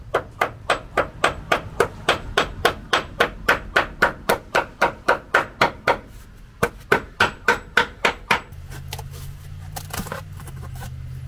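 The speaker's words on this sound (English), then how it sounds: "use my massive hammer to make a pattern" Heavy hammer blows strike metal in a steady, rapid series of about thirty sharp clangs, patterning a Toyota Tacoma cab mount, with a short pause midway, then a low hum.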